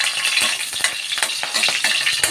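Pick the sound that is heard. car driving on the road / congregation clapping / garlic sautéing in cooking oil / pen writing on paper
garlic sautéing in cooking oil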